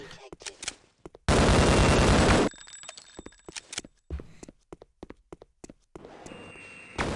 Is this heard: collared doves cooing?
no